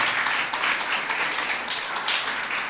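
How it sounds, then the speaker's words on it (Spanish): Sustained loud applause from a large crowd at a church service, a dense steady wash of clapping with no pauses. "dale una fuerte ofrenda de aplauso"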